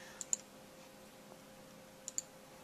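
Mouse clicks in programming software for an Apex Pro CH transmitter, two quick pairs of faint, sharp clicks a couple of seconds apart in a quiet room.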